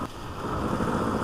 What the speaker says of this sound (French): Ce qui est bizarre, c'est le ralenti moteur, on sent vraiment les coups de piston sur cette moto.